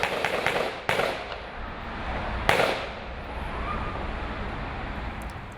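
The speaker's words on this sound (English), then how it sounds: "the sounds you're hearing there, some of the gunshots that deputies heard as they arrived on scene." Gunshots at the Borderline Bar and Grill shooting scene in Thousand Oaks, California: two sharp, loud bangs about a second and a half apart, with a few fainter pops before them, over a steady windy outdoor rumble.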